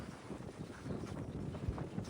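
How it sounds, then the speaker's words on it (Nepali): Wind gusting across a microphone outdoors in a forested area in Korea, a low rumbling buffet that rises and falls unevenly throughout, close and muffled, with no voices. "हावा मात्रै हावा चलेको छ"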